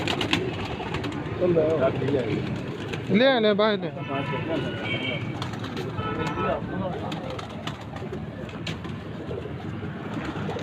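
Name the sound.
pigeons cooing on a rooftop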